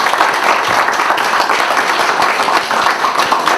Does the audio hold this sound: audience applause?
yes